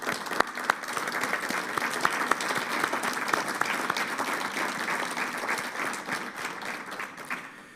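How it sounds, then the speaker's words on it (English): A large summit audience applauds warmly for the mayors of Odessa and Kyiv, sustained dense clapping with a few sharper claps standing out, easing off toward the close. "Please give them a very warm round of applause."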